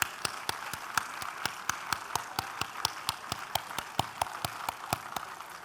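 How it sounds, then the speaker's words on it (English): Sharp claps ring out in a steady, even rhythm, about four per second, as a crowd claps in unison over a low background murmur. "a big round of applause for the stars behind us"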